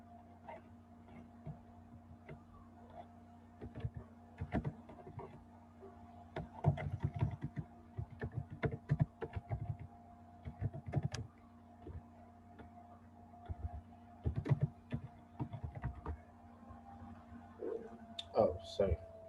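Bursts of computer keyboard typing clatter in irregular runs over a steady low hum, close and moderately loud, with pauses between flurries of keystrokes.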